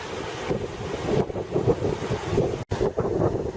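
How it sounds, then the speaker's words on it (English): Gusty wind buffets the microphone outdoors on a warm day in uneven rushes, loud and close, with one brief dropout near the end. "it's windy out here, but nice and warm still"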